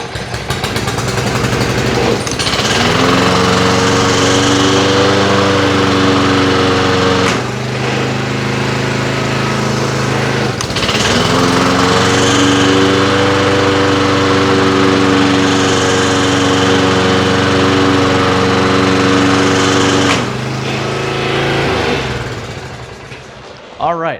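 A lawn mower bought new thirty years ago runs loud and steady after servicing, its engine note dipping briefly around a few moments before picking back up, with a person talking over it.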